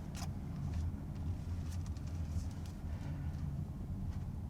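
A 2025 Toyota Corolla Hatchback SE driving past, a steady low road and engine rumble with tire noise and no talk.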